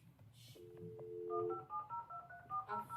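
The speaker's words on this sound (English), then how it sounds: "It's like the phone on the Babysitter's Club." Telephone dialing tones from The Baby-Sitters Club: a long held tone followed by a quick run of short, distinct keypad beeps, fairly faint, with a faint voice briefly at the start.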